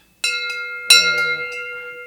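A temple bell from Nepal is struck twice, each strike ringing out clearly with a bright metallic attack and a long, steady sustained hum that slowly fades.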